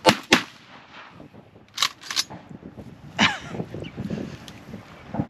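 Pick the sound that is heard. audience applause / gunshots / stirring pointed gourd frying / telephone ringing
gunshots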